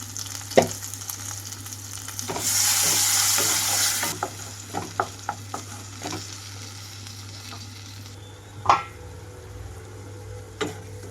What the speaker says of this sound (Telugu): టమాటోతో పాటు ఉప్పు, పసుపు, కారం మొత్తం కూడా వేసేసుకుంటున్నాను.